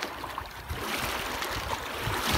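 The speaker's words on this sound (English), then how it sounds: "The waves are splashing around my feet." Small waves wash and splash around the feet on a rocky spring beach strewn with seaweed, a steady close watery rush and trickle with no talking.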